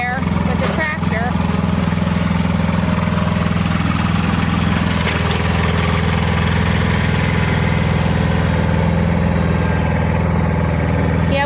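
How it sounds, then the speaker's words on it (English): A tractor engine runs steadily with a landscape rake attached, a loud continuous low drone that holds throughout, with brief clanks and faint voices over it. "we can just scoop it on down into the woods there with the tractor."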